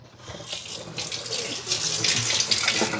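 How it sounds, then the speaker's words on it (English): Tap water runs steadily into a sink, rinsing food held in a colander, with a bright continuous splashing rush that grows slightly louder as it goes, no talk over it. "Turn this over a minute, give it a quick rinse, because there is starch on that."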